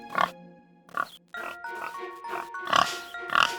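Short, nasal pig grunts in an animated jungle story, a series of about five or six snorts close up, with a brief spoken voice between them.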